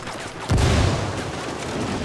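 A grenade blast from the video game Ghost Recon, a sudden loud boom that bursts in after a brief pause and rolls on in a dense, rumbling roar of gunfire and battle noise.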